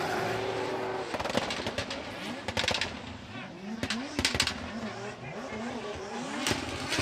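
GR86 drift cars battle side by side in a top 16 chase at Formula Drift Japan, engines revving and bouncing off the limiter in rapid bursts while tires squeal, with a commentator talking over the action.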